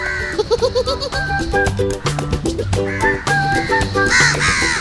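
A pet crow cawing loudly and close, a rapid series of harsh repeated calls with overlapping caws from other crows, no talk.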